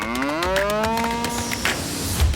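An Angus cow or bull lets out a single long, loud moo, close by, with a deep rising and falling tone over a couple of seconds and faint ambient noise around it.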